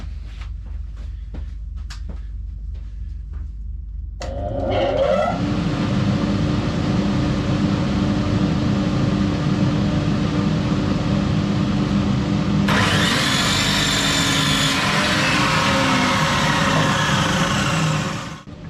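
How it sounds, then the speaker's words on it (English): Wood being sawn for a micro camper bed with a dust extractor switched on partway: quiet clicks at first, then a loud steady motor roar, joined later by a brighter high-pitched cutting whine that stops near the end. "So we'll get that cut, put the extractor on."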